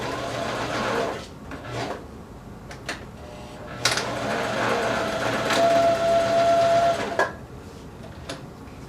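A sewing machine back-stitches leggings fabric in short, rasping bursts, whirring forward and reversing with brief pauses between runs, close and fairly loud with no talking.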